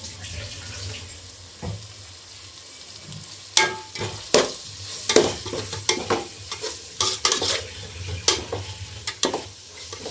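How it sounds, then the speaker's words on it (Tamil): Ginger garlic paste sizzles in hot oil for chicken biryani, a steady close frying hiss broken by repeated scraping stirs of a ladle against the pan, with some clatter. "இஞ்சி பூண்டோட பச்சை வடை போகிற மாதிரி ஒரு 2 நிமிஷம் என்ன பண்ணுங்க, நல்லா கிளறி விடுங்க"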